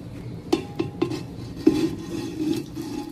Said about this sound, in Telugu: మ్యారినేట్ అయిన చికెన్ కుండలో వేసుకుని ఇది హాఫ్ బాయిల్ చేసుకుందామండి